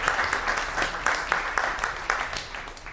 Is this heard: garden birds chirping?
no